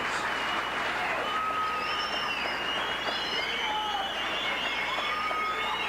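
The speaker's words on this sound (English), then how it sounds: "Let's give all those girls one more big round of applause." An audience at a 1988 beauty pageant applauding the contestants, a steady wash of clapping throughout with cheering voices and whistles over it.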